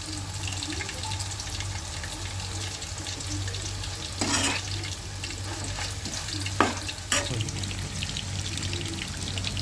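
Chicken chili sizzles steadily in a pan, a constant close frying hiss broken by a few sharp bursts as the pieces are stirred and tossed.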